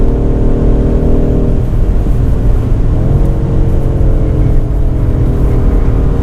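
New BMW M5 with all-wheel drive on a test drive with controls switched off, its engine a loud, steady low drone that shifts in pitch partway through as it pulls, filling the cabin without talk.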